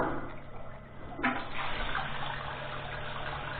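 Water gushes steadily from a newly drilled Abyssinian well, a continuous, fairly loud splashing flow that swells slightly partway through.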